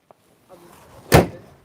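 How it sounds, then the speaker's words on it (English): A car's engine lid is swung shut with a single solid thump, preceded by faint rustling and a soft click, close by and loud against an otherwise quiet background. "You want to close the engine lid?"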